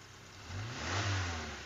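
A 1986 Suzuki Carry pickup with a used engine is given a short burst of throttle, and its idle swells into a rising rev before easing off. The engine is close and loud, with no talking.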